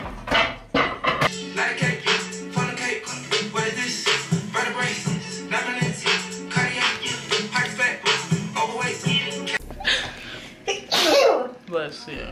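A single sharp sneeze bursts out near the end of a lively stretch of chatter among friends at a 26th birthday celebration, with people talking throughout.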